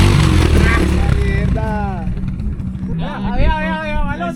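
A motorcycle engine rumbles on an off-road trail at Parque de las Peñas Blancas, loud at first then easing, while people shout and talk over it.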